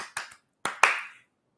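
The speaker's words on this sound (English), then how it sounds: "That's my clap on beat." Hand claps keep time on the beat in a room: two quick claps, a pause, then two more, each a sharp snap with a brief ringing tail.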